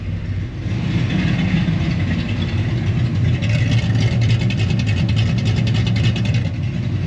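A Fox Body Mustang V8 with Holley Terminator X and Spintex exhaust idles steadily around 800 rpm with a rumbling, slightly uneven loping throb, loud and close, with faint metallic rattles layered on top.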